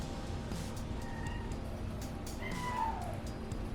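A cat meows once, a short rising-then-falling cry over steady low background noise, fairly faint and slightly distant.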